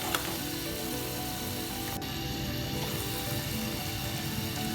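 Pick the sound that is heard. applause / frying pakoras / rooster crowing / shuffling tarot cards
frying pakoras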